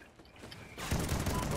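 Shotgun blasts erupt in Call of Duty: Ghosts online play: a quiet opening gives way to a sudden loud burst of close gunfire that keeps rolling to the end, while a player talks over it.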